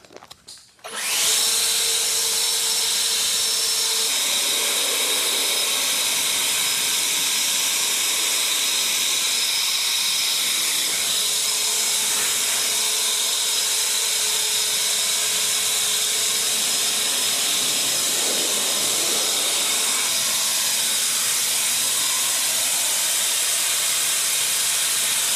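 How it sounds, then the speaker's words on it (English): A leaf blower roars up to a loud, steady rushing hiss while blowing out a CarCapsule car storage enclosure. The blast runs close and continuous for over twenty seconds with only slight shifts in tone. "Just grab a leaf blower and blow it out."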